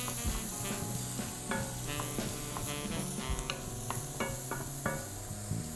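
A wooden spoon stirs saffron risotto in a hot pan, soft scraping and gentle sizzling with small clicks, close and fairly quiet throughout.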